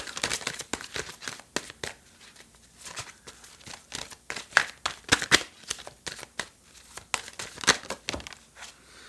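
Tarot cards being shuffled by hand, a dense run of quick papery riffles and flicks in irregular bursts, close and fairly loud, with no talking.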